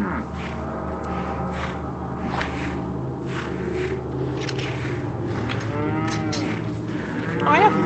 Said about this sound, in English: Oh, hey, cow.